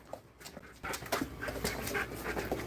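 A dog pants steadily and close by, quick rhythmic breaths running through the whole moment with no talking over it.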